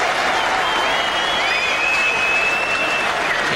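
A crowd at the Basin Reserve, Wellington, applauds a batsman reaching fifty in a 1990 one-day cricket match between New Zealand and India. The clapping is steady, sustained and fairly loud, with faint whistles over it.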